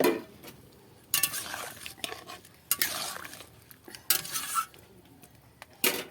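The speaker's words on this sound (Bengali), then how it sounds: "এই আলুগুলো আমি ঢেলে দেবো একটু মোটা মোটা করে" Thick-cut potato pieces tumble into a cooking pan in a few sharp bursts of clatter and scrape, separated by quieter stretches of low kitchen noise, with no talking.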